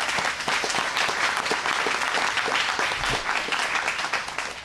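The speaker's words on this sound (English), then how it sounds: "That was applause." An audience at a press conference applauds throughout, steady crowded clapping at moderate distance, easing slightly toward the end.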